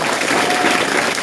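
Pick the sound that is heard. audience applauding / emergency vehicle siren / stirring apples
audience applauding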